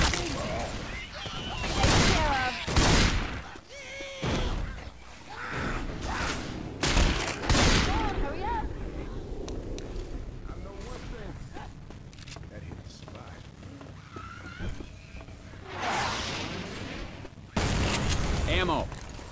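Gunfire and explosive booms in a multiplayer shooter match on a map called The Parish, with repeated loud bursts and crashes scattered across the clip, mixed with footsteps and game action while players talk over it.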